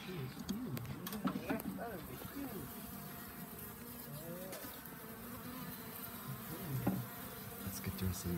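A honey bee swarm buzzes loudly and constantly during a cut-out from a roof eave, the dense insect hum close by with voices talking over it at times.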